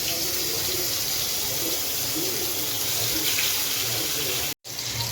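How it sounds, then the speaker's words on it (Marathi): Fish pieces fry in hot oil in a pot on a gas stove, giving a steady, dense sizzle that fills the whole stretch, with a very brief cutout near the end. "आता त्याच्यात मच्छीच्या तुकड्या फ्राय करायला सोडून देते."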